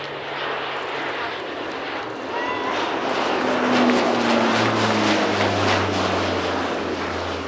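A C-130 Hercules propeller transport makes an airshow flypast, its loud droning propeller hum swelling and shifting in pitch as it passes, with a voice talking over it.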